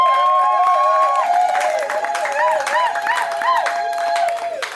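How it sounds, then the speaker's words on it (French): Applause and acclamation from a church congregation, clapping and cheering carried under loud, wavering sung or shouted voices that dominate the sound throughout. "Est-ce qu'on peut donner des acclamations à notre Seigneur?"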